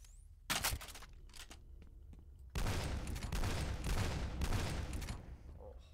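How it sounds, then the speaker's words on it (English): Rapid bursts of heavy repeating cannon fire in the video game F.E.A.R., a short volley followed by a longer sustained barrage of booming shots, fairly loud and close. "What is that? Repeating cannon."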